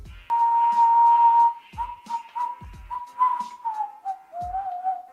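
A person whistles clearly, one long steady note, then a string of shorter wavering notes with brief pauses between.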